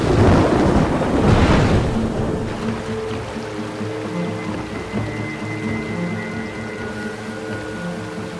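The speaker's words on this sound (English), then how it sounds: "It's been a long time since we've seen a thunderstorm." A cartoon thunderstorm opens with a loud, rumbling thunderclap, then steady rain hisses on beneath a soft musical score that fades in.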